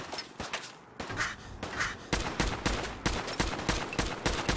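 Rapid bursts of gunfire in the Fallout 4 video game, sharp close reports repeating in irregular volleys, dense in the second half with a few brief whooshing tones between shots.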